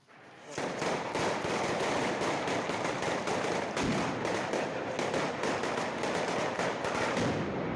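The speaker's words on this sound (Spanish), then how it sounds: "les guerres de petards que es produeixen als seus carrers" Rapid, dense crackling bursts of firecrackers go off continuously in the street in the Valencia region, loud and overlapping, with sharp pops scattered throughout and a faint voice somewhere in the mix.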